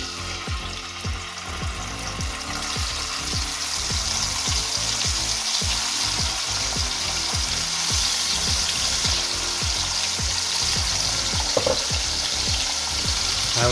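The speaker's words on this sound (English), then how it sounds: "we're gonna put the bacon in" Bacon frying in leftover fat in the same pan during a full breakfast cook, a continuous close crackling sizzle with rapid regular popping spatters throughout and no talking.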